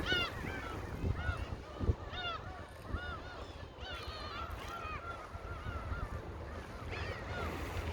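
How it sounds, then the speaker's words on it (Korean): Seagulls call repeatedly at Hanjin harbor in Dangjin, Korea, during heavy rain, a scattered series of shrill cries over a steady wash of rain and wind. "갈매기도 많이 울고"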